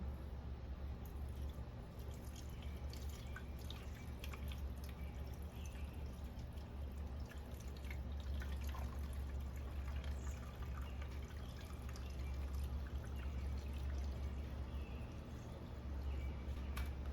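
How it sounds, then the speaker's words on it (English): Fuel being poured into a Stihl FS36 string trimmer makes a continuous trickling, dripping sound for the whole stretch, held fairly steady over a constant low hum with no talking. "Let's pour some fuel in, we'll test her out."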